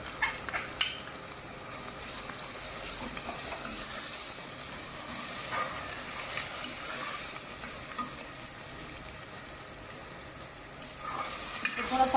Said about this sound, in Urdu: اس کو تھوڑا سا فرائی کریں گے، پھر اس میں ڈالوں گی میں ادرک لہسن کا پیسٹ اور دوسرے مسالہ جات